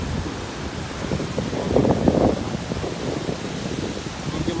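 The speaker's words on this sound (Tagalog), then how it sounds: "tingnan nyo kung gaano kalaki yung alon" Big ocean waves roll and crash under strong wind during Typhoon Auring on the coast of Davao, with a broad rumbling surge in the middle and heavy wind buffeting on the microphone throughout.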